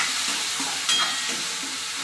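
Tomatoes frying in a pan with onion and chillies, producing a steady, close sizzle with a faint hiss and one brief brighter burst partway through, with no voices over it.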